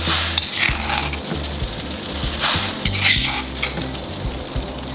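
Thai sour yellow curry paste being stirred into a pot of water on the stove, with continuous sizzling and bubbling plus intermittent scraping and clinks of a utensil against the pot, fairly close and steady.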